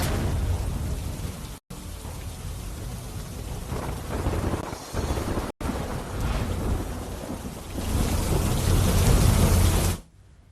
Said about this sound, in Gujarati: અચાનક જ જે વરસાદે એન્ટ્રી કરી